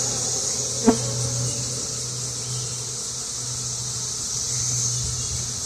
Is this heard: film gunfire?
no